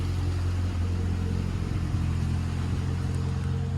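A Ford Escort RS Turbo S2 engine idles steadily while warming up, with a low, even rumble, close and constant throughout.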